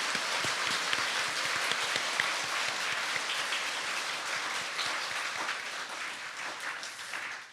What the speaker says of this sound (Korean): 우리 살아계신 나의 구주 예수 그리스도에게 영광과 하나님께 영광을 박수로 올립시다.